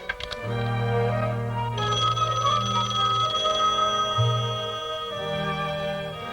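An old-fashioned telephone rings in repeated electronic bursts, steady and fairly loud, with no talk over it.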